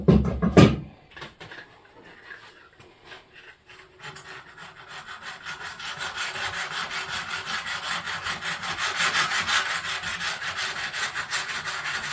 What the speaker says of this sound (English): The reason why we're sanding it is we're trying to rough it up, the rough sandpaper